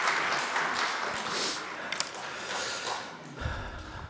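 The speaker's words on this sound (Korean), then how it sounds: "우리 박수 한번 하겠습니다" Applause from a church congregation during a Sunday service, a moderately quiet, diffuse patter of clapping that fades toward the end, followed by a low thump.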